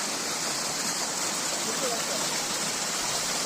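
Water flows steadily over rocks in a stream at Dauri Nala in Purulia, a dense, continuous rushing at close range. A voice speaks over the flow.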